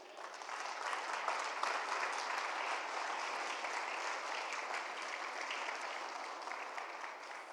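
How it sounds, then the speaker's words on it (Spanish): Church congregation applauding at a sermon, a steady, dense wash of many hands clapping that holds evenly throughout, fairly distant and moderately quiet. "¿Alguien tiene fuerzas para darle un aplauso a Dios?"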